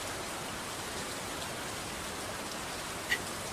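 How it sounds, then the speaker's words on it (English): Steady rain hisses evenly throughout as a soft, constant wash of noise, with one brief sharper drop near the end and no voices. "Why is the rain so loud?"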